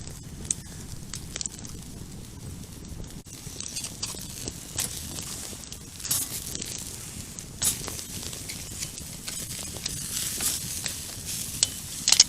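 Lobster pieces sizzle and fry over a campfire, a steady crackling hiss running the whole time with scattered pops and stirring scrapes, close and moderately loud with no talk.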